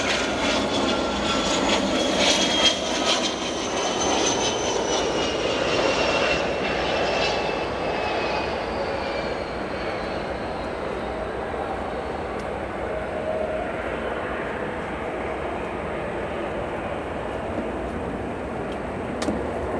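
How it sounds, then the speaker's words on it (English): A private business jet taxis at O'Hare airport with a steady engine roar and whine that carries across the airfield. It fades slowly over about twenty seconds. "This is a private aircraft here"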